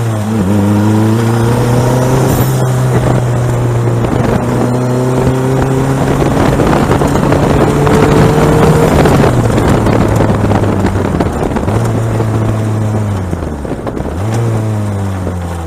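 An Ariel Atom sports car is driven hard on a bumpy road, its engine howling loud and close with rising and falling pitch through gear changes, buried in heavy wind rush throughout.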